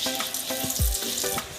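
Sugar and whole dried chillies frying in hot oil for a silver carp fish curry, a loud close sizzle with quick stirring scrapes and one deep thud in the middle, brief and without speech.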